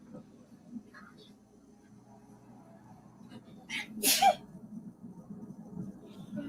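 A single sharp sneeze bursts out at close range amid low background murmur and room noise during an outdoor relic-hunting expedition.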